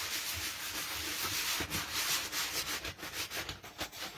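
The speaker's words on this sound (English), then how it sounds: "sanding that napkin right off of it" Close, rhythmic scratchy strokes of a sanding block rubbing back and forth across a wooden door hanger cutout, steady at first and then in quicker uneven passes.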